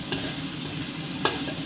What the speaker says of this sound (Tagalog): medyo napiprito na siya sa sarili niyang mantika